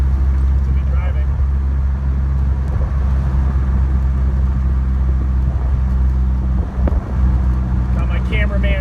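A Super Seven sports car cruises smoothly as a relaxed Sunday driver, its low steady engine drone and road rumble continuous throughout with wind buffeting, heard from inside the open car.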